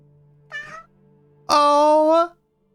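Two cat meows from a video game about lycanthropes, the first short and softer, the second a longer, louder drawn-out meow, heard alone over a faint steady background hum.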